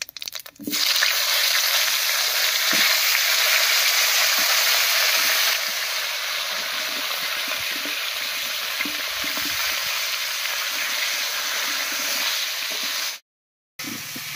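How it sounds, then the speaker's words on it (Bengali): Loud, steady sizzling of cauliflower and potato frying in hot oil with cumin seeds, with occasional stirring scrapes and a brief cut to silence near the end. "এবারে কেটে রাখা ফুলকপি আর আলুটা দেবো"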